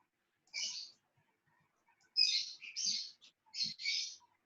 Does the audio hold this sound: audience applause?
no